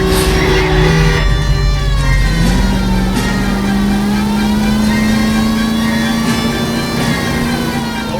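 Car engine revving hard during a chase in the video game L.A. Noire, a steady loud drone that climbs in pitch and holds high, with a voice speaking briefly over it.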